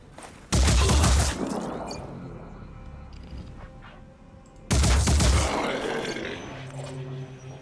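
Two loud bursts of gunfire from the tactical game Phoenix Point, the first near the start and the second about four seconds later, each fading into a lingering rumble with faint mechanical clatter between.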